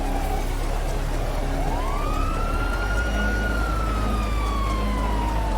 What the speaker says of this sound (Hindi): तो भाई एम्बुलेंस वाले पहुंच गए हैं